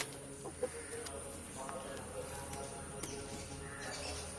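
Country hens cluck softly and intermittently inside a village coop, with faint scattered calls over a steady background hum and some distant human voices.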